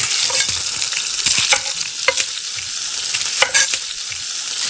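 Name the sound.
onion sizzling in oil for paella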